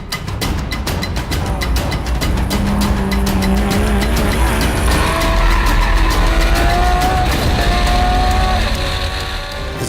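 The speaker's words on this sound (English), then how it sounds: "Travis Pastrana's run has put him in first in the Porsche Cayman GT4 Clubsport class" A Porsche Cayman GT4 Clubsport race car at Pikes Peak roars loudly and steadily, its engine note rising and falling through gear changes with some tire squeal, no voices.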